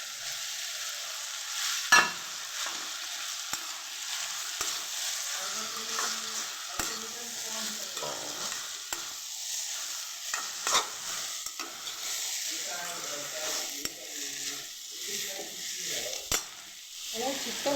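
Tomato and capsicum are stir-fried for a jackfruit chilli, a steady close sizzle broken by repeated spatula scrapes and stirring knocks against the pan.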